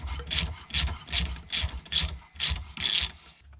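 A nut is run down onto a stud on a Holset H1C turbo by hand ratchet, giving seven quick bursts of close, crisp pawl clicking in a steady rhythm with short pauses between strokes.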